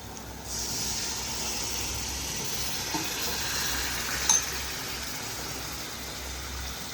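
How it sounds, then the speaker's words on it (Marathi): Water poured into hot oil and masala for shev bhaji, giving a steady, even sizzling hiss that starts suddenly and holds throughout, close and moderately loud, with one brief clink partway through. "आपण आता ह्याच्यात पाणी घालू"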